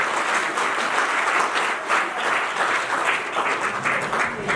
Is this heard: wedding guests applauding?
yes